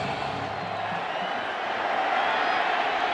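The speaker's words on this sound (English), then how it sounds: "All right, this crowd is up. Listen in." Football stadium crowd at Nebraska at Illinois roaring before a third down, a dense continuous wash of cheering that swells slightly toward the end.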